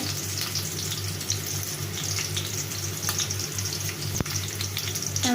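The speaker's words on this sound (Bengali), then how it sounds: "তারপর এটাকে আমি হালকা বাদামি করে ভেজে নেব।" Garlic frying in a pan with onion, a continuous dense sizzle and crackle with a low steady hum underneath and one brief sharp click near the end.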